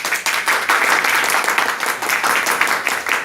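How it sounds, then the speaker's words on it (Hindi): Loud, sustained applause from an audience at a product presentation, dense clapping filling the whole stretch with no break. "एक बार जोरदार तालियां बजाओ इसके लिए"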